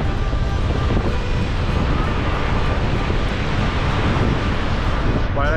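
Niagara Falls roars as a broad, unbroken wash of water noise, loud and steady throughout with wind buffeting mixed in, seen from a viewpoint facing the Canadian side.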